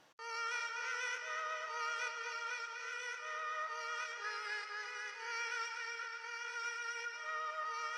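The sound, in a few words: music sample pitch-shifted up an octave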